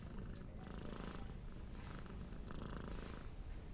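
A cat purring steadily up close, a soft continuous rumble with gentle rhythmic pulses, alone without talk.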